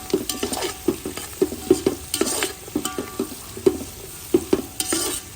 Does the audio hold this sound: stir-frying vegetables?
yes